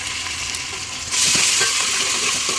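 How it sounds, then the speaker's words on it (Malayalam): Onion and garlic paste frying and being stirred in a pan while cooking chicken spaghetti, a steady close sizzle that grows louder partway through, with faint scraping stirs underneath. "പിന്നെ അതിൻ്റെ കളർ മാറുന്നത് പിന്നെ അതിൻ്റെ മണം മാറുന്നത് വരെ ഇതേമാതിരി ഇളക്കി കൊടുക്കണം."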